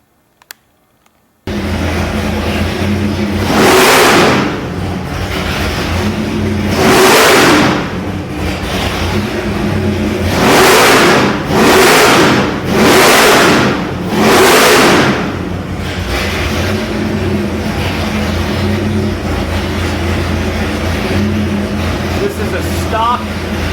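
Stock GM 572 big block crate engine with a custom intake manifold, idling with a steady deep rumble and blipped five times in quick throttle revs, each rising and falling sharply, close and loud.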